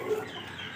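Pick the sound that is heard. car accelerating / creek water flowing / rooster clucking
rooster clucking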